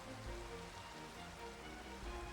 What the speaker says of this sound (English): I did not order rain.